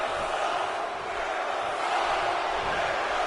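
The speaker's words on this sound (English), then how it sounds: "the crowd screaming Jericho sucks here" Wrestling crowd in the WWE 2K17 video game, a dense, steady roar of many voices chanting and screaming at a constant loud level throughout, with no individual speech standing out.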